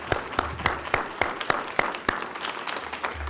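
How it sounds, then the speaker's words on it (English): Audience applause for award recipients at a county commissioners board meeting, scattered claps with a few sharp louder ones standing out, moderately close and steady for a few seconds. "Big round of applause for all of our recipients today."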